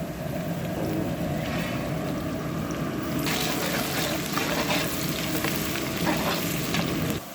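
Green chillies sizzle and crackle steadily in hot oil for a chicken biryani cooked outdoors, with stirring noises and the frying growing brighter and louder partway through.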